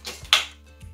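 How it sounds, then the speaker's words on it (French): The battery snaps into an Exceline CycloniX-5 cordless stick vacuum cleaner with one sharp plastic click, framed by softer handling rustles close by. "On va insérer la batterie comme ceci"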